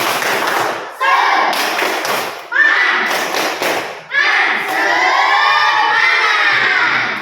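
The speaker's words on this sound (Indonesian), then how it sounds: "kita tepuk semangat dulu" A school class performs a rhythmic clapping chant, sharp clusters of claps and thumps alternating with loud, bright children's shouting voices, repeated in bursts and ending in a sustained group shout.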